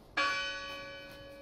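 A single distant church bell strikes once, its clear ringing tone sustaining and slowly fading in a quiet outdoor setting.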